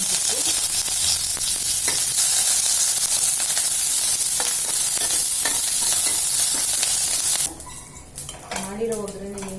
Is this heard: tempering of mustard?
yes